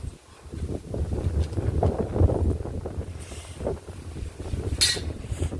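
Gusty wind buffeting the microphone at an outdoor cooking stove, a low rushing roar that rises and falls over several seconds, with faint background noise and no talking.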